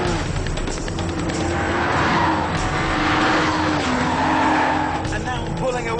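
A BMW Z4 M sports car accelerates hard, its engine drone rising and falling with gear changes over road and wind noise, fairly loud and close, with a voice heard faintly beneath.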